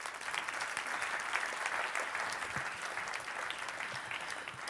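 Steady applause from a conference audience greeting Swedish speakers, a continuous, fairly soft patter of many hands clapping throughout the few seconds, with no voices on top.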